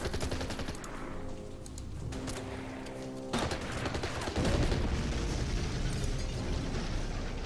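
Rapid bursts of gunfire from the strategy video game Order of Battle, featuring US Marines in combat: dense, continuous shooting and explosive impacts that fill the whole stretch, loud and steady with no talking over it.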